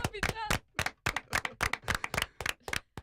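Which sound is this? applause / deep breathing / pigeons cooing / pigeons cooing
applause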